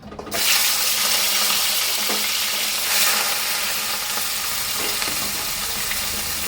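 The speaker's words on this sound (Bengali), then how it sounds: "তেল গরম হয়ে গেছে, গেরিগুলো ভেজে নেব।" Gugli snails frying in hot oil in a wok, giving a loud, steady, close sizzle that rises sharply after a short quiet start and carries on without break, with faint clinks of stirring.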